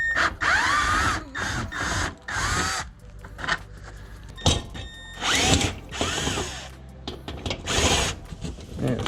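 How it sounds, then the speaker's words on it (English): A screw gun spins 8mm bolts out of a Ford F-150 truck panel in repeated loud, whirring bursts with short pauses between them, close by. "I'm going to use the screw gun because it's easier and faster."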